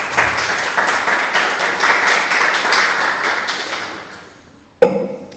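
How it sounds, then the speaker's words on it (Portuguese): A church congregation claps in a full, even burst of applause that fades gradually, followed by a sharp knock and brief room noise after it dies away. "Você pode dar um aplauso ao Senhor Jesus?"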